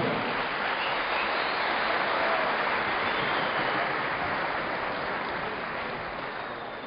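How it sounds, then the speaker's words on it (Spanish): A crowd at a formal swearing-in ceremony for the Prefect of Pastaza gives sustained, dense applause to welcome the lawyer Guillermo Antonio Cubes, steady and full throughout before easing slightly at the end. "solicitamos vigorosamente un fuerte aplauso de todos los presentes"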